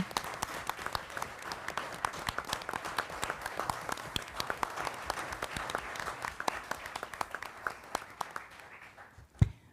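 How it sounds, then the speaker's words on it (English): At a school board of education meeting, a roomful of people applauds its retirees with a full, steady burst of clapping that carries for about nine seconds, then tapers off and stops. "Let's give one last big round of applause to all of our retirees this evening."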